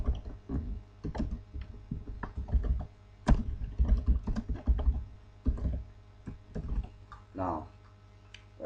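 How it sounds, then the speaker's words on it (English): Keys on a computer keyboard click in quick irregular bursts while HTML code is entered, close and light, with a voice talking quietly over part of it. "then I'll type in"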